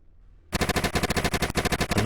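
Rapid automatic gunfire from a zombie shooter video game bursts in after half a second of near silence, a loud, dense string of shots hammering on without pause.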